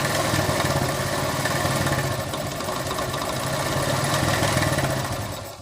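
A 70cc motorcycle engine with a faulty switch idles nearby with a steady, throbbing putter, then dies away at the very end.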